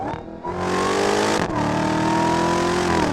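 Supercharged 2019 Dodge Challenger Hellcat Redeye Widebody under hard acceleration, a loud, close engine roar climbing in pitch, a brief dip at a gear shift, then pulling hard again steadily to the end.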